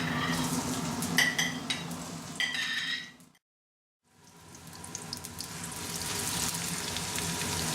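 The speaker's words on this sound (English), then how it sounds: "Then you put your chopped onions first." Chopped onions hit hot oil for upma, a close, bright sizzling hiss with a few clinks, cutting out briefly to near silence before the frying resumes and builds steadily.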